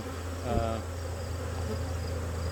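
Honeybees buzzing steadily around a fall hive being prepared for overwintering, a continuous low insect drone with one louder brief swell near the start.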